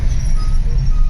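Traffic moving in both directions near the Kashedi tunnel, with a brief close rumble of heavy vehicles such as trucks or buses passing by.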